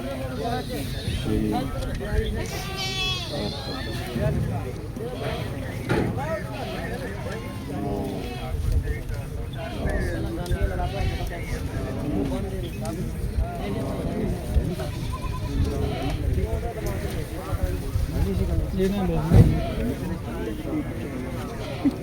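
Goats bleat repeatedly at Bargari goat market in Punjab, mixed into constant crowd chatter and haggling voices. The bleats are close at first, then scattered and partly masked by people talking.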